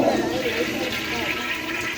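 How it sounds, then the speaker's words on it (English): A long, steady toilet flush in a public restroom at Shenandoah Valley Caverns in Quicksberg, Virginia, roaring continuously and close by for the whole stretch, with faint voices mixed underneath. "That's a long flush too."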